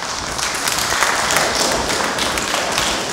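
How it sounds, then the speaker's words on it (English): A congregation at a Friday morning Mass applauds a school girls' group after their musical performance, the dense clapping steady and full throughout with no talk on top. "So clap for your school and for your girls,"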